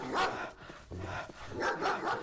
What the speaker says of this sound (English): And there's another dog out there.